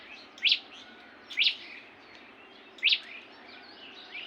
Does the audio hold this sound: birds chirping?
yes